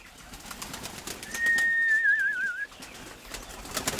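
Pigeons at a feeder, with a short whistling coo-like call rising out of quiet, rustly background noise in the middle.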